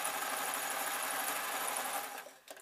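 Sewing machine stitching fabric for a foot support, running fast and steady at close range, then slowing and stopping with a couple of short bursts at the end.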